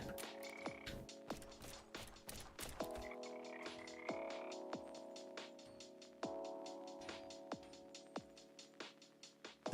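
Frog croaks from a Godot video game in development, a series of short, sharp, evenly spaced croaks mixed with ratchety clicks, some clustered quickly at first and then spreading out into a looser rhythm, fairly quiet.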